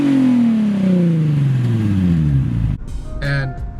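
A Nissan 350Z with a VQ engine and ISR single exit exhaust revs hard, the note sweeping down as the revs fall, then cuts off abruptly into a brief quieter tail, loud and close.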